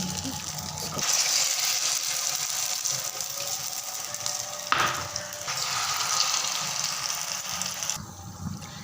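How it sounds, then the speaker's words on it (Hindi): Bread samosas dipped in maida batter bubbling in hot oil, a soft steady sizzle with faint clinks and a couple of louder splashes as more pieces are dropped in, no talking. "ये ब्रेड समोसा को आप मैदे में डिप करें और ऑयल जो हमने गर्म कर लिया है उसमें डाल दें"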